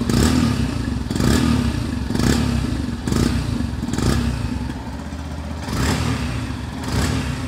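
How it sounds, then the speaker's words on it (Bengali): A 2025 Yamaha FZ-S Hybrid motorcycle idles close by, its exhaust putting out a steady low rumble, and about eight evenly spaced revs swell and fall roughly once per second. "চলুন সবার আগে এর এক্সস্ট সাউন্ডকে একবার শোনা যাক"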